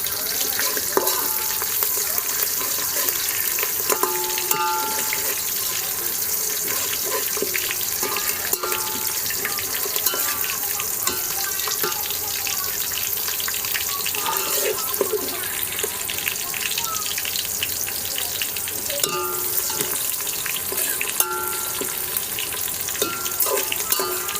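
Green chilli and cumin sizzling in a pan over browned onions for a village-style mushroom dum biryani cooked on a wood stove, a steady hiss with faint stirring scrapes.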